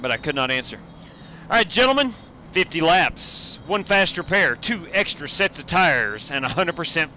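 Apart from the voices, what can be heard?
No everyday noises stand out.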